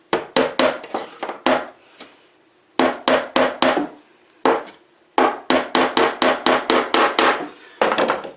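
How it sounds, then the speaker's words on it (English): Hammer driving small tacks into a wooden model railway track base board, sharp close taps in quick bursts of four to seven blows separated by short pauses. "I'll drive the tack in so far that it bites in the base of the board"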